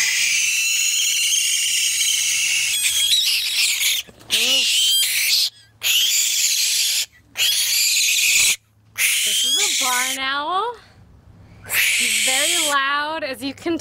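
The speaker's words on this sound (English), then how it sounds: "barn owls are different from screech owls, they can give the latter a run for their money when it comes to screeching." A juvenile barn owl gives loud, harsh drawn-out screeches in repeated bursts separated by short silences, close to the listener, with no talking.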